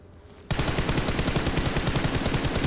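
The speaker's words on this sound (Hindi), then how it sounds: "मैंने तो सही चलाई थी गोलियां, लेकिन पता नहीं क्यों नहीं लगी उसको" In the mobile shooter BGMI, a sustained automatic gunfire spray erupts after a short quiet moment, a loud, rapid, evenly spaced stream of shots continuing without pause to the end.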